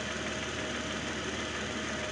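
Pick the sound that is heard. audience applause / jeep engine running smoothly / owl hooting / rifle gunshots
jeep engine running smoothly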